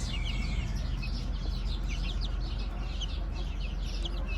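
Gurk hens, three of them with their chicks, clucking softly and steadily at a distance, with scattered high chick peeps over a low background hum.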